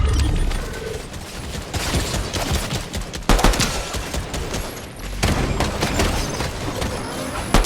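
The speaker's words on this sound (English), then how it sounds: "I'm being shot, I'm being shot." Gunfire in a shooter game, heard as dense rapid bursts of automatic fire and crackling shots that pile up into near-constant loud noise, with faint voices underneath.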